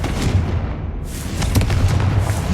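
Confringo blasting spell going off in Hogwarts Legacy, a loud booming burst with a low rumble that swells about a second in and carries a sharp crack mid-way, no voices.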